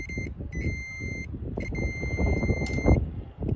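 High-pitched multimeter continuity beeps while checking an engine ground, one short and then two longer sustained tones, sounding over low rumbling background noise and handling sounds.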